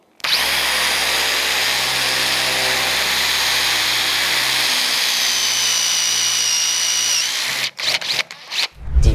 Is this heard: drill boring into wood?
yes